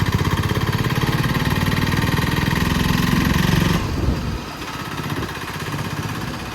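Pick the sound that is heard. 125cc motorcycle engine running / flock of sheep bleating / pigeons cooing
125cc motorcycle engine running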